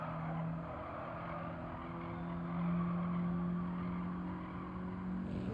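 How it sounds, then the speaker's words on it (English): Race car in Gran Turismo 7 sliding through a corner and then powering out, a continuous engine drone with faint tire scrub that rises in pitch and loudness midway as the throttle opens, with no talking. "Sophy slides in, allows the car to settle, and powers out."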